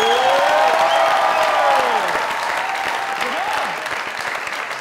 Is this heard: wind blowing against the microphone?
no